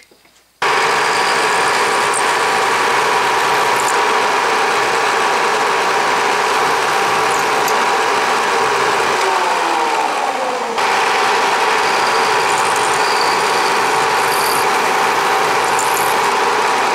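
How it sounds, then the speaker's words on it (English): A milling machine runs steadily and loudly for the whole stretch, cutting small pockets into round stock, as a continuous motor whine with a faint shift in pitch partway through as the cut changes. "So I'm going to mill just little pockets here."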